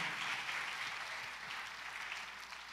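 A church congregation claps together in sustained applause, fairly faint and distant, fading slightly toward the end with no voices over it.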